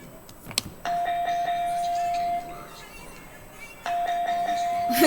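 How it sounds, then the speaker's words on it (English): A steady electronic bell tone rings out twice, each time sustained for a second or two, with faint clatter and rustling between. "The bell is ringing"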